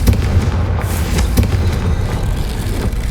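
The Confringo fire spell explodes in the video game Hogwarts Legacy as a loud, rumbling blast with deep booming texture and scattered crackling bursts, sustained and roaring across the whole moment.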